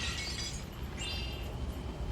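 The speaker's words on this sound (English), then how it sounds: "you'll just hear or see a smashing vase in the background for no reason" A vase shatters in Spyro: Enter the Dragonfly, a bright burst of breaking glass and ceramic that plays alone as a single short crash.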